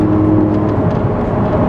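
Gen 1 Audi R8 V10 on stock headers with a Valvetronic Designs exhaust, heard from inside the cabin as it shifts up: a steady, close, dense engine hum and whir that continues without any break or talk.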